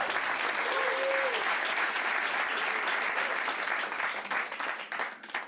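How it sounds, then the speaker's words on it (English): Sustained audience applause for two magicians on stage: dense, steady clapping from a large crowd lasting several seconds, with a voice briefly audible early, tapering slightly at the end. "And give both of them a big round of applause."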